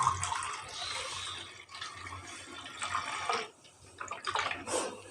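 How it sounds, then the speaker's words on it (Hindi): Water poured from a glass into a pot of mustard-greens saag cooking on low heat, a steady splashing rush of liquid lasting several seconds, close and moderately loud with no talking. "मज़ीद पानी का 1 गिलास और डाल दें।"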